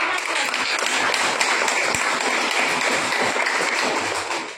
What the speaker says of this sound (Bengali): সবার জন্য একটু বড় করে একটা হাততালি।